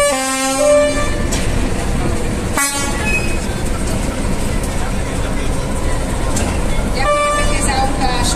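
Powerful train horns blare in a public demonstration, with long sustained harmonic blasts, sharp breaks and renewed toots over a busy crowd background.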